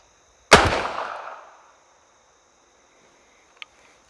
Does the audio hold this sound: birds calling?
no